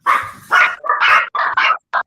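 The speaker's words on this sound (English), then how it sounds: "I muted, but dogs are barking." A dog barks repeatedly in sharp, loud bursts close by, several barks in quick succession with short gaps, no talking over them.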